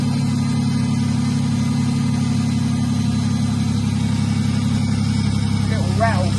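An infra red saloon car's engine runs at a steady loud idle, a constant low drone, with a short voice near the end.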